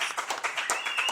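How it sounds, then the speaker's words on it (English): A small live audience claps in a steady flurry of overlapping hand claps, fairly close and moderate in volume, with a faint voice and a brief whistle-like tone mixed in. "Clap. Everybody clap."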